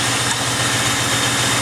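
A 1994–96 Impala SS engine idles with a steady, even rumble and faint mechanical vibration, close by and continuous with no talking over it.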